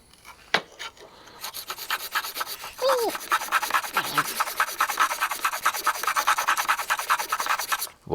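A chisel held in a sharpening guide is pushed back and forth across a stone in a steady rhythmic rasp, following a few scrapes and brief pauses at the start.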